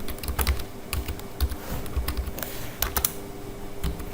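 Computer keyboard keys tapped while entering item data in MYOB accounting software, irregular bursts of close, crisp clicks with short pauses between them.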